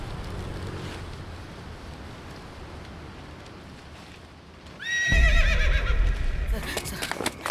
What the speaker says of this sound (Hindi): घोड़े को छोड़ दीजिए ना सर